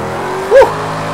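A 900hp RTR Formula Drift Mustang drifting in Project Cars 2, a steady droning engine note that swells in a brief rev bump midway through the short moment.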